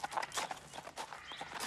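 Hooves of a ridden horse clip-clopping in a quick, steady rhythm at moderate distance, fairly quiet, with faint background noise.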